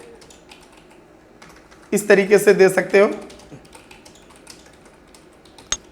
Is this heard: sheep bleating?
no